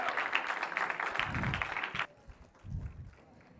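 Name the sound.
audience applause after live music performance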